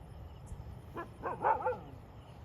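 A dog gives a couple of short, faint barks and yips at a distance against quiet background noise.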